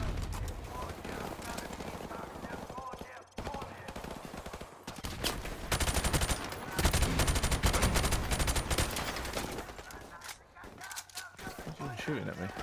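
Loud bursts of automatic gunfire from the Call of Duty 4: Modern Warfare video game, dense and repeated across the clip with a short lull partway through, with voices talking over the shooting.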